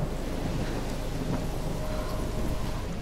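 Rain falls steadily in a stormy scene from the video game Life Is Strange, with a low, continuous thunder rumble beneath the dense, hissing downpour.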